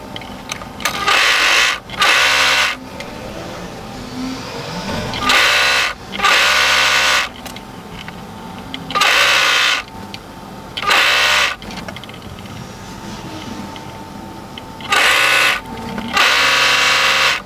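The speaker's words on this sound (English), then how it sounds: "So now we need to work with a plain stitch on a sewing machine." Sewing machine running a plain stitch on stretch fabric for a turtleneck tunic, fitted with a ballpoint or stretch needle; repeated loud bursts of whirring stitching lasting one to two seconds, separated by short pauses, with no talk.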